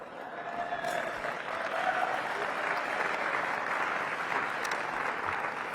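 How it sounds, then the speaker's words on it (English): Applause from an audience at a Washington DC economic partnership annual meeting, a sustained, even wash of many hands clapping at moderate level with a few sharper claps standing out near the start and end. "I would clap a little harder for that one."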